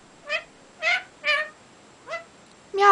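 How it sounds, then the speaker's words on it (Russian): A cat meows five times in short, close, clear calls, each a brief rising-and-falling cry with pauses between, the last one louder and cut off at the end. "Ну скажи мяу."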